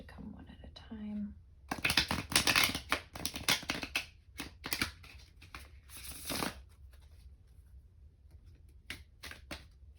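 Playing cards are shuffled in quick riffling bursts during a candle-picking tarot-style reading, with short pauses between rounds and a soft whispering voice nearby.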